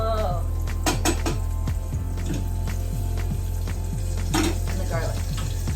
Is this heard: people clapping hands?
no